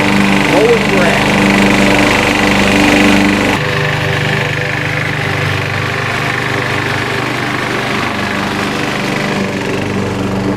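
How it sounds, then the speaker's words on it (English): A lawn mower cutting grass, a loud, steady engine drone close by that holds throughout, with a slight drop in level partway through. "Mowing grass."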